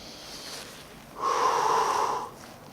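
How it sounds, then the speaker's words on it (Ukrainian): A single long breath, likely an exhale, during a back-strengthening exercise routine for scoliosis. It is close and steady and lasts about a second, with quiet room noise before and after and no talking. "Тепер виконуємо дихальну вправу. Вдих, видих."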